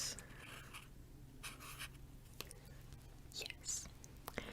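Pen writing by hand on paper in a quiet close-up setting, soft scratchy strokes in short bursts with small taps between them, heard alone at low level.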